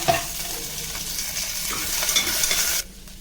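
Green chilies and curry leaves sizzle and crackle steadily in hot oil during tempering, a close, bright frying hiss with a few soft stirring scrapes before it cuts off abruptly.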